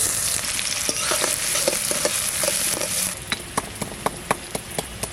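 Onions are frying in oil for a village-style crab curry, a dense, loud crackling sizzle up close, then a run of sharp regular taps as a spatula strikes the pan, with no speech.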